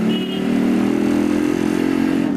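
A Yamaha RX100 motorcycle engine running steadily and loudly while being ridden, a continuous two-stroke drone with no speech.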